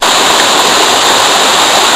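A canyon waterfall roars close by, a loud, dense, unbroken rush of falling water that holds steady from start to finish.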